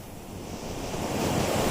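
Steady roar of sea waves and surf washing in a cartoon seascape, a broad continuous rush with wind noise, alone and fairly loud.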